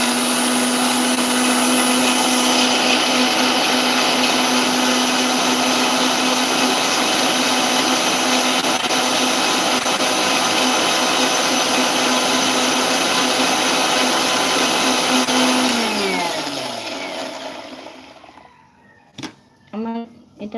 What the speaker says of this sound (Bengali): আমার এটা ব্লেন্ড করা হয়ে গেছে।